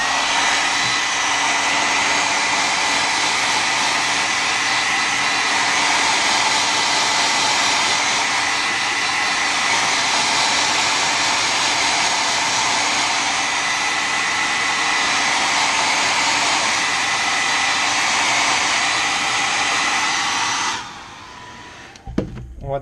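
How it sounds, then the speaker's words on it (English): A handheld hair dryer blows steadily and loudly at close range, heating and shrinking tint film around a Toyota Celica fog light or blinker lens, a constant broad whoosh lasting about twenty seconds before switching off abruptly. "So now what you'll have to do is turn on the hair dryer."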